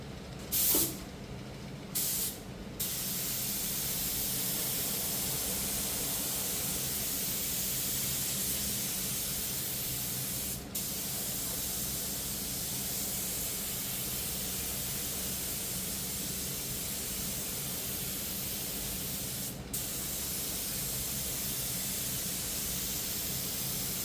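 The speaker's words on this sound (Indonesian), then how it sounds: "untuk lapis kedua ini kita akan semprot sampai terlihat glossy" Aerosol spray paint hissing steadily as a second glossy coat of mixed moonlight violet paint goes on, a continuous close hiss with short gaps and a couple of brief clicks.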